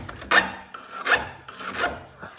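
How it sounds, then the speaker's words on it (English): A hand file rasping excess sheet metal off the body of a 21-window VW bus, three close, scraping strokes in a steady back-and-forth rhythm, no voices. "we have a bit of excess metal there, so we gotta file this off, clean it up"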